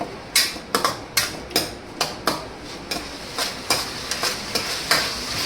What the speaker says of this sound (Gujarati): આપણે આ ટમેટા અને કાકડી એ બીજા ઓલામાં સાતરી લઈએ